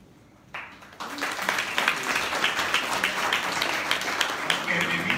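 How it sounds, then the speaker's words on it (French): Applause breaks out at a municipal council meeting, starting hesitantly and then settling into steady, moderately loud clapping from a room of attendees, with no voices rising above it. "Vraiment des applaudissements."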